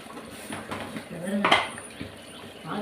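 Clinks and scrapes of a spoon against a cooking pot as chilli powder is added to greens, close by and fairly quiet, with one sharper metallic knock.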